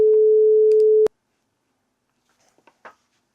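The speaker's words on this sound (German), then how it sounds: "Wie gehabt lade ich wieder in den NN19 einen Sinuston." A pure, steady sine tone from the NN19 sampler in Propellerhead Reason holds for about a second at loud volume, then cuts off abruptly, leaving near silence with a few faint clicks afterward.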